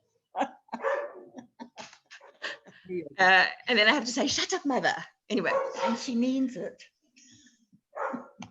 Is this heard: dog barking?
yes